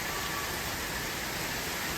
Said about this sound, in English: All that rain here.